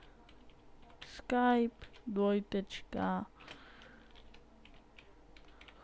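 Keys clatter on a computer keyboard in short bursts of soft tapping, close and quiet, around and between a man's spoken words.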